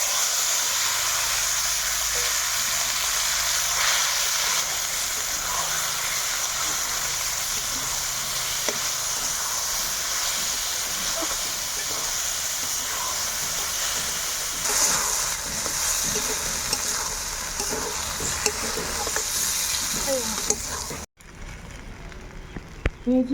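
Dry red chillies and bay leaf sizzle steadily in hot white oil in a kadai, a dense, close frying hiss running loud and even for about twenty seconds before it abruptly cuts away.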